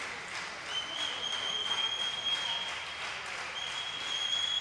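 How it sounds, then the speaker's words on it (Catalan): The crowd at a roller hockey Continental Cup final between CE Lleida Llista and Sporting CP applauds, a steady dense wash of clapping from a large arena audience, moderately loud and continuous, with no talk over it. "Aplaudeix el públic."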